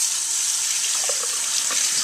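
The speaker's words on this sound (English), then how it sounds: "And then, this is important, wash your hands." Hands being washed under a running kitchen tap, a steady close splashing stream of water with small irregular drips and splatters.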